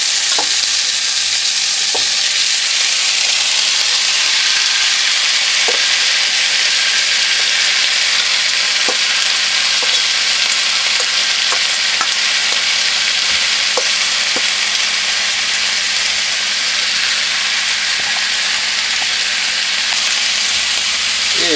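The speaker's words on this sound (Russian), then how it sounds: "Этот весь лук мы теперь хорошо обжарим" Chopped onion fries loudly in a hot pan for a shashlik sauce, a dense, steady sizzle that runs unbroken with occasional faint clicks of stirring and no voices.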